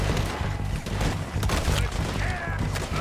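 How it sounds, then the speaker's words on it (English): Shotgun blasts in Red Dead Redemption II, a few sharp loud reports over a dense, rumbling game soundtrack, with no talk. "Shotgun time."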